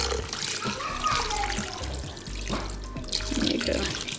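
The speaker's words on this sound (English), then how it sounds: "And then I'm gonna throw in some water" Water is poured into a cooking pot of tripe, about two cups, for a slow overnight cook: a steady splashing and trickling stream with some clatter, close and continuous, without speech.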